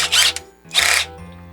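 Small 2.5mm drill bit whirring through a metal upgrade part for a WPL C74 Jimny JA11 RC car, two loud close bursts of high grinding whine with a short pause between them.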